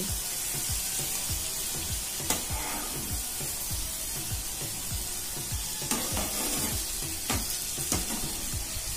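Ridge gourd, potatoes and prawns for a curry sauté in a little oil in a pan, giving a steady sizzle and hiss with scattered scraping stirs, close up and continuous, with no voices.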